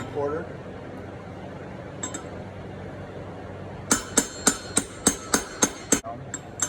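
A hammer taps a socket to drive a front wheel bearing into a Suzuki LTZ400 ATV hub, starting with one light tap and then a steady run of about ten sharp metallic knocks, close and clear.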